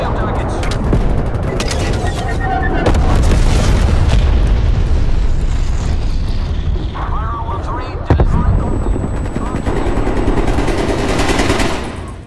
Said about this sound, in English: Bomb strike standing by.